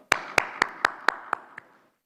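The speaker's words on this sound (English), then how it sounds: "When there's some good work done, we need to applaud." At a Lanka Premier League 2024 cricket player auction, hands clap seven times in a steady rhythm that gradually softens, close and clear with no talk over it.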